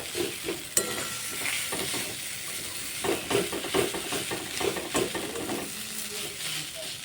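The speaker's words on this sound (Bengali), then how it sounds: "এবার নেড়ে চেড়ে নেব সুন্দর করে আর আলুটাকে ভালো করে এরকম ম্যাশ করে দিতে হবে" Spiced potato filling for stuffed bread, seasoned with garam masala, is stirred and mashed in a hot pan, with steady sizzling and repeated scraping, knocking strokes close by.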